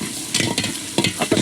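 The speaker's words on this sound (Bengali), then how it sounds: "দেখেন পেঁয়াজগুলো ভাজা ভাজা হচ্ছে" Onions frying in a pan for pulao, a busy sizzle broken by several sharp scraping stirs in quick uneven bursts, close and loud, with no talking.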